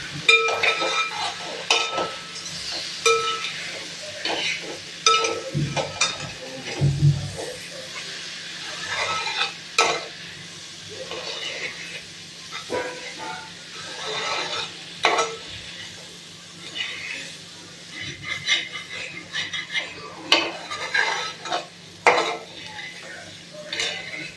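Mushroom masala with onion and tomato stirred and frying in a pan: a spoon scrapes and clinks against the metal over a soft sizzle, in irregular bursts with light background talk.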